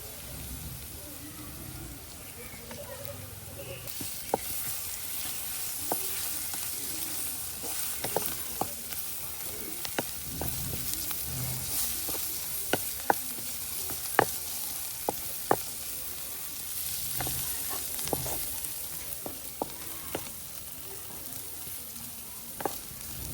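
Spice masala of ginger-garlic paste, Kashmiri chilli, cardamom, meat masala and cumin powders frying in a pan, a constant soft sizzle broken by many sharp spatula taps and scrapes, close but fairly quiet.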